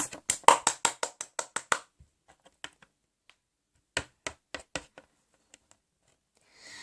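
Hand claps greeting a contestant onto a talent-show stage: a quick, evenly spaced run of about ten sharp claps, then a pause and a few scattered claps in near silence.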